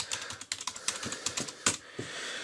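Typing on a keyboard connected to a device by USB OTG: rapid, uneven clicking keystrokes, close and steady with no voices.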